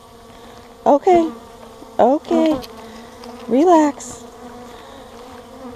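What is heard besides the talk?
bees buzzing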